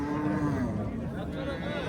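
A cow at a livestock market gives a long, loud, drawn-out moo close by, with crowd noise behind it.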